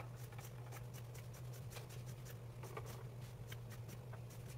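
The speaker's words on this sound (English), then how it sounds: "So first I'm going to cut it in half." Scissors cutting a bath towel in half, a series of quick, close snipping and rustling strokes at an uneven rhythm over a low steady hum.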